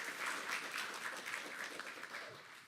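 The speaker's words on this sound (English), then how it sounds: "We get a round of applause for them, yeah?" A crowd at a New York digital games event applauds the game developers, a sustained, fairly soft patter of many hands that tapers slightly toward the end.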